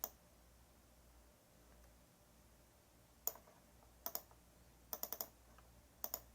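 Sparse bursts of computer keyboard typing during spreadsheet data entry, a few quick clustered key clicks separated by pauses over a faint quiet room background.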